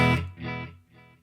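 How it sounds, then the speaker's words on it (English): An electric guitar routed through delay and reverb pedals, one note followed by two fading repeats, quieter each time and trailing off. "let's add the delay."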